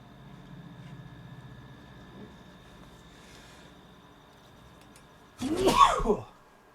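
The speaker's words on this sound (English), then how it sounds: "Sorry, I really got to mute that when I sneeze." A single loud sneeze bursts out close to the microphone after a stretch of quiet background hum, lasting about a second before fading.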